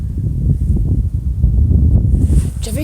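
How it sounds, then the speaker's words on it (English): Strong storm winds buffet an outdoor microphone with dense, gusty low rumbling and rustling, loud and continuous, with a faint higher sound near the end. "the wind's literally blowing you"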